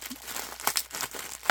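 Tight weave burlap fabric crinkling and rustling as it is handled up close, a quick series of scratchy crackles and rubs with no talking.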